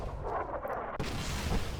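Explosions boom in Fallout New Vegas, dense overlapping blasts with a sharp new burst near the middle, loud and continuous.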